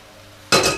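Pots and pans clank in a kitchen: after a quiet start, one sudden bright metallic clatter rings out and fades within a few tenths of a second.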